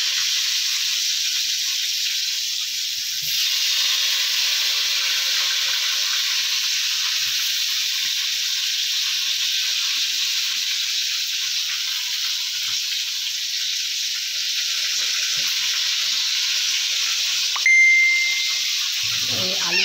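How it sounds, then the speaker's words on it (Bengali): Potatoes with turmeric frying in hot oil, a steady close sizzling hiss that continues evenly throughout, with a brief clatter and a short beep near the end. "এই আলুটাকে ছেড়ে দিয়েছি। আলুটা ভাজা হচ্ছে।"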